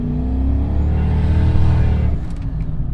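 A turbocharged V8 Jaguar XJ long-wheelbase sedan accelerates hard close by, its engine note climbing steadily before the wastegate opens and the tone drops away into a lighter whoosh.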